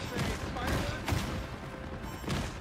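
Gunfire in the hero shooter Marvel Rivals, fired in quick bursts of sharp cracks over a busy backdrop of combat effects, close and fairly loud for under three seconds.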